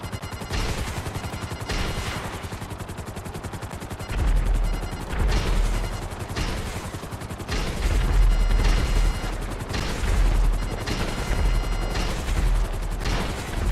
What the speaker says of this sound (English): we're just going to sit here and launch missiles on these dudes all day